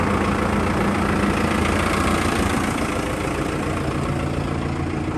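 A TR5110 tractor engine idling on a cold early morning before field preparation, a loud, steady, dense diesel rumble with no change in pace throughout, no talk.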